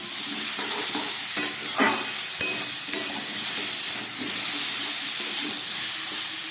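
Fish-head curry with mixed vegetables and about four green chillies sautéing in a pan, a steady loud sizzle with repeated scraping stir strokes throughout, no voices.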